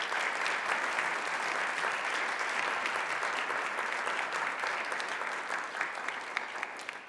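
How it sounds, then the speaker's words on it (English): Sustained applause from a large audience at a university research day keynote, a dense, even roar of clapping that continues throughout and fades slightly toward the end. "Let's give her a round of applause."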